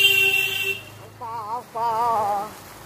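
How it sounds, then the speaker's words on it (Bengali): A motorbike horn honks loudly on a neighbourhood street, two sustained warbling blasts close by after a steady tonal sound fades. "বাইকটা এত জোরে হর্ন বাজিয়ে গেল"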